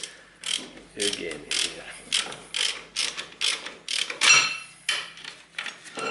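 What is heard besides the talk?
ratchet fastening brake bolt on a Nissan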